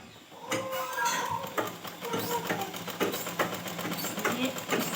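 A sewing machine stitches a blouse cord, its rapid rhythmic needle chatter running under a voice.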